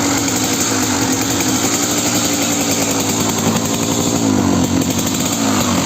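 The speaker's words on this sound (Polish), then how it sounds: "Ładnie teraz pracuje silnik." A Kawasaki KDX 200 two-stroke motorcycle engine runs steadily, a loud, close, buzzy idle with a rattly rhythmic pulse that holds even throughout, with no talking.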